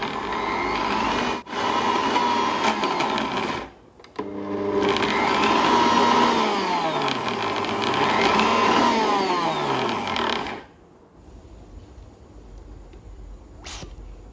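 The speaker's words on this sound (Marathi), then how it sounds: "तो पण आता आपण मिक्सरला काढणार आहोत" A mixer grinder whirs loudly while grinding onion, garlic and salt into a Kolhapuri masala paste, with two brief dips in its roar. It runs for about ten seconds, then cuts out, leaving quiet room sound.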